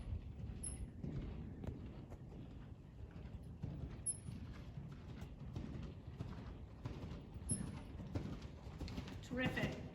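Horse cantering in a riding arena, its hoofbeats falling in a steady repeated three-beat rhythm at close range, with an instructor's voice heard over it and occasional birds chirping faintly in the background.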